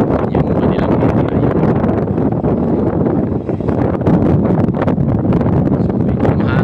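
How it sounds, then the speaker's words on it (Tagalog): Strong wind roars steadily across a railway construction site, buffeting the microphone with continuous low rumble and gusts throughout, loud and unbroken. "malakas pa rin yung hangin dito sa lugar na to guys"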